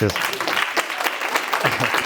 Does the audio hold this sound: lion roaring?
no